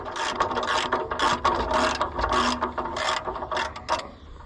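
A ratchet cranks rapidly on a stubborn fitting on an Oliver 1755 tractor's fuel lift pump, loud close bursts of dense clicking in quick repeated strokes.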